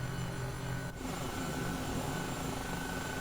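Airbus H135 helicopter engine running in Microsoft Flight Simulator with its second engine started, a steady close whine and low hum that holds level throughout, with only a brief dip near the start.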